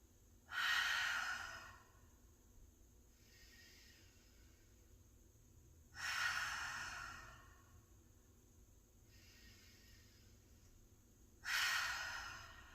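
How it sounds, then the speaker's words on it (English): Three deep cleansing breaths during a grounding yoga practice: each is a strong, breathy 'ha' exhale through the mouth, spaced about five seconds apart, with softer nasal inhales between them in a quiet room. "taking 3 deep cleansing breaths together, in through the nose and out through the mouth with an HA sound"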